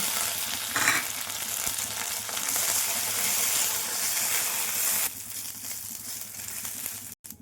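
Dry red chillies frying in a spoonful of oil in a pan, a close, steady sizzle and crackle that drops to a quieter, thinner fry partway through, with a brief clatter near the end.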